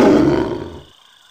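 A tiger gives a single loud, deep roar that rings out and then cuts off abruptly, leaving silence.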